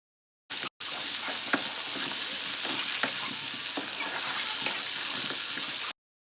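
Potatoes with salt and black pepper sizzle steadily as they are stirred and lightly fried, a dense close hiss with occasional soft spoon scrapes, starting abruptly after a brief blip and cutting off sharply.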